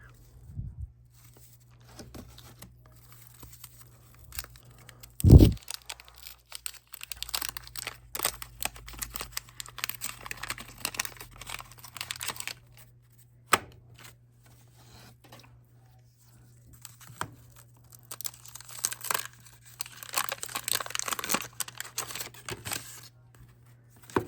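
Wax packs of 1990 Fleer baseball cards being ripped open close by, with crinkling and rustling wrapper paper, card handling and scattered sharp tears in an otherwise quiet room under a low steady hum.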